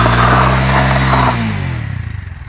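A motorcycle engine revs hard and loud close by during a burnout, a sustained roaring drone that then drops away into a slower, pulsing wind-down as the revs fall.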